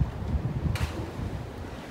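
Sea waves wash near the shore at Bora Bora as wind buffets the microphone, with low gusty rumbling and one brief splash of surf.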